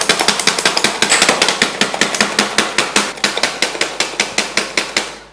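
Rapid, loud knife chopping of garlic and ginger on a board, a fast continuous run of sharp knocks keeping an even rhythm throughout, with no talking.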